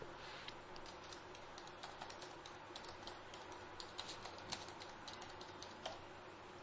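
Typing a mail subject on a computer keyboard, a steady run of quiet, rapid key clicks with a few sharper taps, close and alone against faint background hiss.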